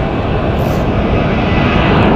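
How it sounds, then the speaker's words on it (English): A United Airbus airliner roars loud and close on departure from Phoenix Sky Harbor bound for Los Angeles, its jet engines a steady, dense rumble throughout. "But there goes our sneaky United plane, cutting the line, heading to Los Angeles"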